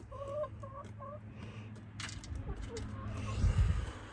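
Backyard chickens clucking close by in a short run of repeated calls, followed by rustling and a few thumps as someone works around the coop.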